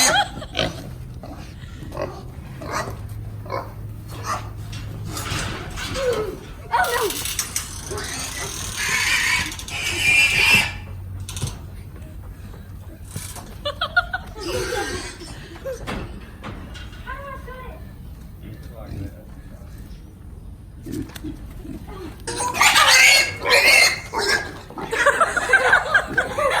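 Pigs on a farm let out loud, repeated squeals and grunts in bursts, mixed with people talking and laughing nearby throughout.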